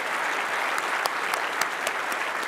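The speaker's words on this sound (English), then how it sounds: "Let's give another round of applause to all of our presenters in this session" A conference audience at a GIS user conference plenary session applauds, a dense, steady wash of clapping from a large crowd in a hall, sustained throughout with a few sharper claps standing out.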